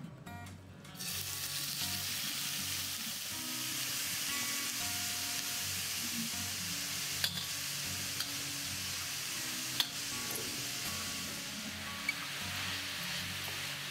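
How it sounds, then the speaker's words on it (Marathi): Grated carrot sautéing in ghee in a pot gives a steady, soft sizzle that runs through the whole stretch, with a few faint clicks and taps from stirring and no voices. "आणि हा सर्व मी आता किस घालून तो जरा परतवून घ्यायचा आहे"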